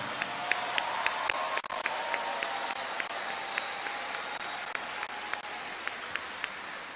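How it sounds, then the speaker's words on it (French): At a graduation ceremony, a crowd applauds steadily, a soft continuous patter of many hands with occasional crisp single claps popping out, heard from some distance and fairly faint. "applaudissons-les"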